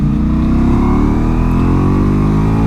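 A Ducati Multistrada V4S motorcycle engine accelerates hard, its loud, steady roar climbing in pitch as the revs rise throughout, close to the rider with no talk.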